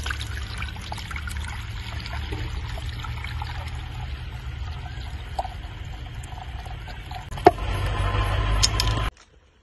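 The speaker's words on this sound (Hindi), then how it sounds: "तो घी डाल के भूनते हैं।" Ghee pouring into a cooking pot of tender boiled beef, a steady low trickle running for several seconds and then rising into a louder, fuller sizzle near the end before stopping abruptly.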